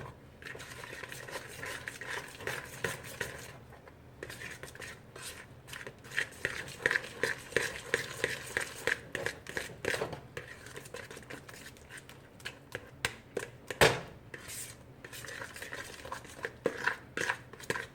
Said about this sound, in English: Now if you want, you can add in half, like I'm doing here, and just start the stirring process.